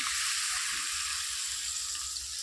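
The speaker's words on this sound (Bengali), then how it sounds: "এটার মধ্যে তার পরিমাণ মতো জল দিয়ে দিতেছি" Water poured into a cooking pot of taro stolon curry, a steady, loud, close hiss of splashing liquid that holds for the whole stretch with no voices.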